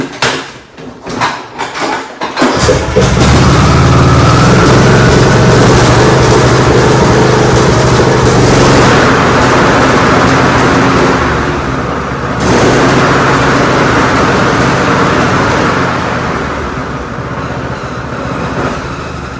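A Briggs engine on a John Deere D105 lawn tractor with a surging fault cranks with a few rough turns, then catches and runs loud and close with a steady drone that wavers in pitch.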